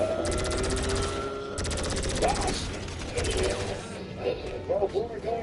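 Rapid automatic gunfire bursts in the GTA video game, loud repeated fusillades separated by short gaps, with a person speaking over them.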